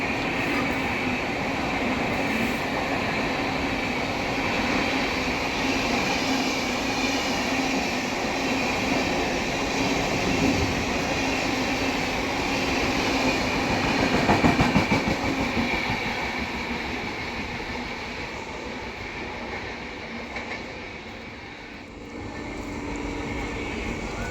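Howrah–New Delhi special train running steadily on rails, a continuous loud rumble with faint rhythmic clatter throughout, easing slightly near the end.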